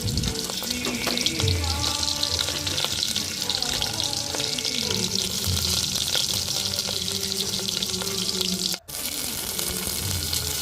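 Onions and green chillies frying in a tempering of oil with dried red chillies, mustard and cumin seeds, a steady broad sizzle that holds loud for the whole stretch with a brief drop near the end, no talk over it.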